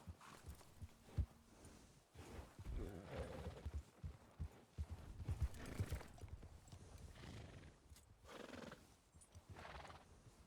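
Horse-drawn cart in a snowy Wild West role-play video game: a horse whinnies and hooves clip-clop as the cart draws near, with people talking over it throughout.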